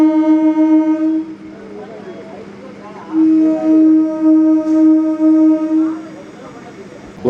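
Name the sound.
MEMU train departing Ontimitta station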